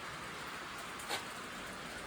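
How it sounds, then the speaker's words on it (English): Rain falling outside a garage during work on a 1955 Buick Special turbo LS build, heard as a constant soft hiss with one brief louder patter, faint and steady with no talk. "it's raining now, so it's kind of noisy in here for videoing"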